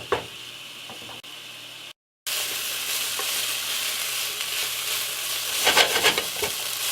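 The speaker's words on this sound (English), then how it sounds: "We're going to cook this for about 4 or 5 minutes. And I'm going to stir this every minute or so." Chicken pieces fry and sizzle loudly in a pan for a keto garlic chicken dish. The hiss is steady and close, broken by a brief silent gap, and a spoon or spatula scrapes and stirs the meat now and then.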